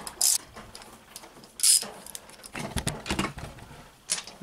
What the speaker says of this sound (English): I'm going to go ahead and take the side cover bolts out, and it's 7 12mm bolts here